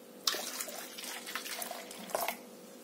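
Warm water poured into a bowl for bread dough, a faint, steady trickling splash lasting a few seconds with a small splash at the start and another near the end, in a quiet kitchen.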